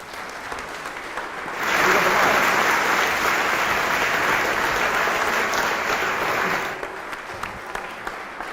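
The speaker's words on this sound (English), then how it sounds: "please give a big round of applause to our speakers" A live audience in Leeds applauds the speakers at a panel discussion, loud sustained clapping swelling in after a moment of room noise, holding steady for several seconds, then fading abruptly.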